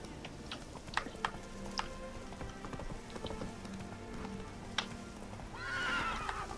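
The horse Roach in Witcher 3 clip-clops along with scattered hoof knocks, then lets out a loud whinny near the end, with no speech over it.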